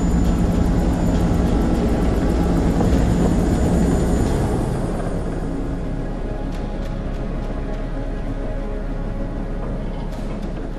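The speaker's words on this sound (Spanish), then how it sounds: "ahora sí ha llegado el helicóptero" A helicopter arrives in the horror video game Man of Medan. Its heavy, steady engine and rotor roar is loud and close at first, then eases into a lower, fainter drone after a few seconds.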